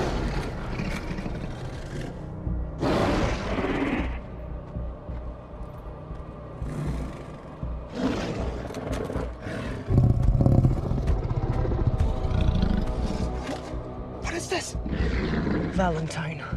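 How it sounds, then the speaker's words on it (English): A zombie tiger in a horror film lets out several loud, rough roars in bursts, mixed with rumbling movie sound and spoken dialogue. "There's a goddamn zombie tiger."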